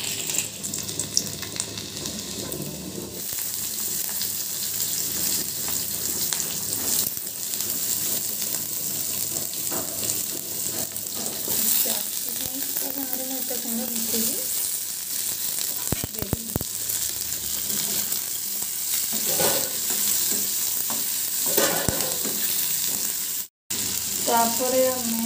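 Cabbage coated in cornflour sizzles and fries in hot oil with a steady, close crackle throughout, and a person talks quietly over it.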